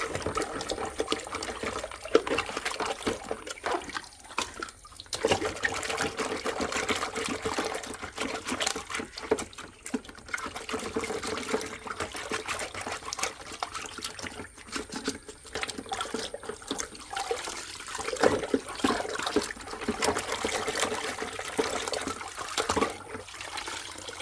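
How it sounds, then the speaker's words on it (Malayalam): Water sloshing and trickling as a clogged household line water filter is rinsed in a fresh basin of clean water; quiet, continuous splashing with irregular pours and drips, no voices. "അപ്പോൾ ഇത് ഞാൻ വീണ്ടും ഒരു പുതിയ വെള്ളത്തിലേക്ക് ഞാൻ കഴുകിയതാണ്."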